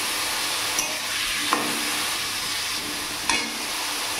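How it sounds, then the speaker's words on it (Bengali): Boiled elephant foot yam sizzles steadily in hot oil in a pan, a constant frying hiss broken by a few faint scrapes of stirring, with no talking. "এবার এখানে আমি ওলটা হালকা একটু ভেজে নেব"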